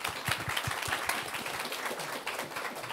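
A seminar audience gives scattered, quiet applause, with soft individual claps in an uneven patter that stays faint throughout.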